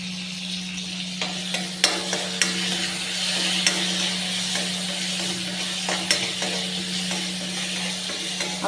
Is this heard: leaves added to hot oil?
yes